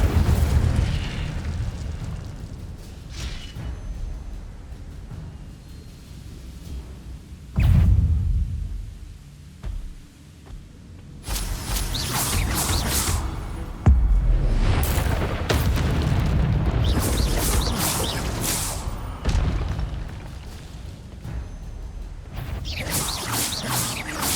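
In Hogwarts Legacy, the Incendio fire spell goes off in a series of loud booming bursts and crackling blasts mixed with other spell effects and combat noise.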